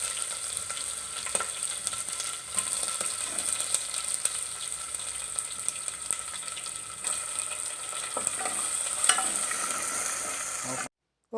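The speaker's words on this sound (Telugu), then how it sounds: "బిర్యానీ ఆకు, అల్లం వెల్లుల్లి పేస్ట్ వేసి ఫ్రై చేయాలి." Steady, close sizzling and frying of cinnamon, cloves, bay leaf and ginger garlic paste in hot oil for coconut rice, with occasional stirring scrapes throughout and no talking.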